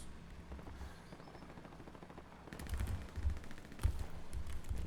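Gunfire in a first-person shooter match, with bursts of automatic-weapon shots that start quietly and grow louder and denser in the second half, cracking in quick uneven volleys over a low rumble.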